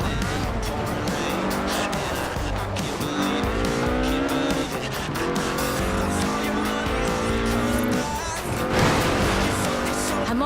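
A Ford RS 1800 rally car with a fuel-injected 1790cc Cosworth BDE engine races in Forza Horizon 4, its engine revving up and down through gear changes with tire squeal, loud and continuous under a narrating voice.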